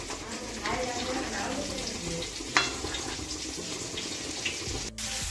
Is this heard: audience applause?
no